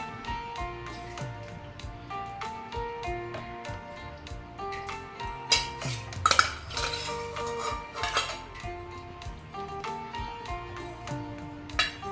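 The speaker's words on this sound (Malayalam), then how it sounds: "ഇനി നമ്മൾ ഇതിനകത്തോട്ട് മീൻ എടുത്തിടാം." Karimeen fish goes into a pan of boiling curry with a run of clinks and clatters of metal utensils against the pan, irregular and close, with a louder cluster of knocks midway.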